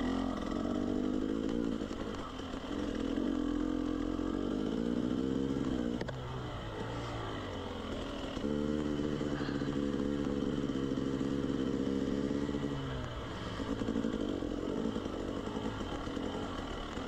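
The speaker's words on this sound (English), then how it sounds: "Sure is nice to have the tractability and traction of the KTM 300." KTM 300 two-stroke dirt bike engine on a trail ride, a loud continuous buzzing drone that rises and falls with throttle changes, dipping briefly around midway before revving up again, close and steady throughout with no talk.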